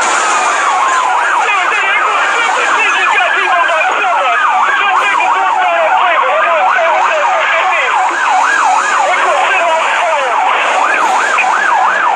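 Several police squad car sirens wail at once, among them a high-performance cruiser, their overlapping rising and falling tones loud and continuous with no talking.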